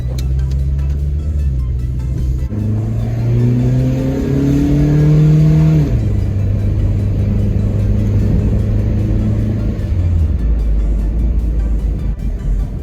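A Geo Metro engine runs nearby, revving up through rising tones, then settling back to a steady, droning idle.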